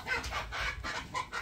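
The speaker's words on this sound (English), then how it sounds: "Sounds like he's getting beat up over there. There's two or three other roosters over there." Several roosters clucking and squabbling over pecking order in a backyard flock, a run of loud, close, agitated clucks in uneven bursts with no talk.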